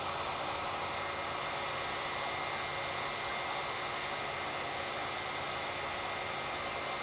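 A hot air tool heats a component on an SN circuit board during a repair-kit installation, making a constant, loud, close rushing blow of air that holds steady throughout with no talking.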